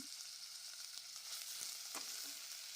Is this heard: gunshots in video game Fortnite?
no